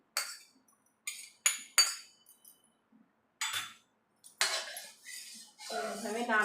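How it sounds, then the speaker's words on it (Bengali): A bread-based sweet being stirred in a pan, with a utensil scraping and clinking against the metal in short irregular bursts, close and fairly quiet, ending in a longer rough scraping stretch. "এইভাবে নাড়াচাড়া করব।"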